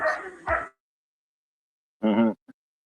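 A dog barks twice in quick succession close by, then after a pause gives one more bark followed by a short yip, heard at the end of a work shift.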